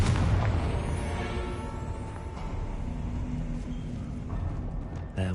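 A Confringo blasting spell goes off in Hogwarts Legacy, a loud booming burst at the start that rumbles and decays over several seconds beneath dense game effects and low music, with a brief sharp crack near the end.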